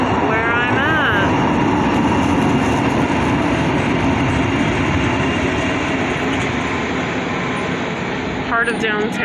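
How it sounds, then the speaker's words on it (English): A light rail train rolls past in a downtown street, a loud continuous rumble and rail hiss with squealing wheel tones near the start and end, while a voice speaks over it. "There's the light rail."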